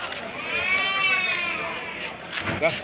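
A sheep lets out a long wavering bleat close by in a livestock market's sheep section, followed by a shorter call amid faint background voices of the busy market.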